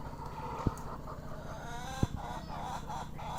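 Fayoumi farm hens cluck softly in a coop, with two brief sharp knocks and a steady low hum beneath the faint, continuous bird chatter.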